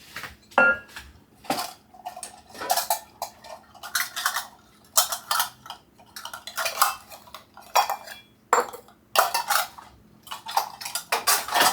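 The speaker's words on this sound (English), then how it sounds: "Take a measuring cup now, we're going to compact that real nice" A measuring cup pressing and tamping cheesecake crust into a pan, giving a series of irregular close knocks, taps and scrapes of metal and utensils, with no talking.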